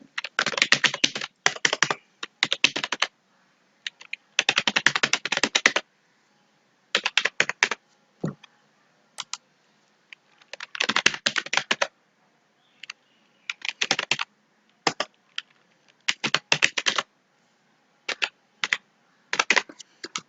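Bursts of rapid keyboard typing, quick clicky keystrokes in irregular runs separated by short pauses, close and fairly quiet, with no talking.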